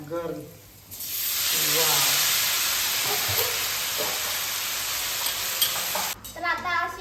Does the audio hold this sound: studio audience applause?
no